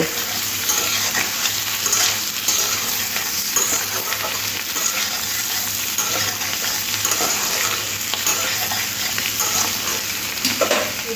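Diced potatoes with salt and green chillies being stirred in a frying pan, with continuous loud sizzling and the scrape of a spatula throughout, no voices.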